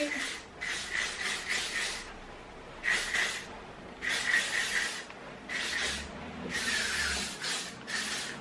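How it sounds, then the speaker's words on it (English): A spray can mists hair styled into glossy waves, giving several short hissing bursts in an uneven rhythm, close and fairly loud, with brief pauses between bursts. "so now I'm going to spray."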